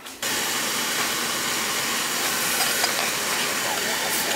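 A Peerless oil-fired boiler running in purge mode gives a steady, loud broadband hiss and rush of air that starts abruptly and carries on evenly throughout, with faint mechanical ticks underneath.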